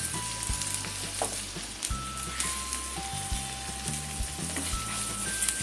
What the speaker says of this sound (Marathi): आता हा आपल्याला परतायचा आहे, असा परतून घ्यायचा